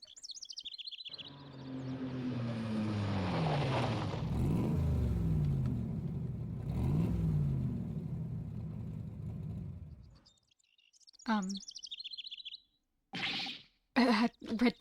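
A red sports car arrives in Apollo Justice: Ace Attorney, its engine revving loudly and rising over several seconds, then stopping, followed by short game blips and chirps.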